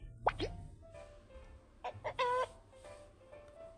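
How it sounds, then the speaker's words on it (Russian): A short rooster crow rings out once, fairly clear, among a few soft electronic blips and plops from a game. "Петух."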